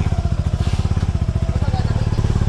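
Adventure motorcycle engine idling close by with a fast, regular thumping pulse that stays even and loud throughout.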